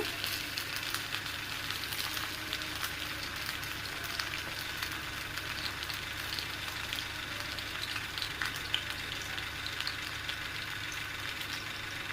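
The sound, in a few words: coconut oil added to pan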